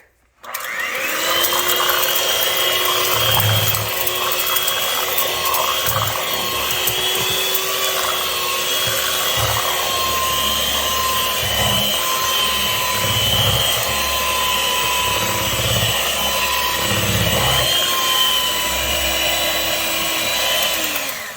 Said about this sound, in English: I'm gonna use a mixer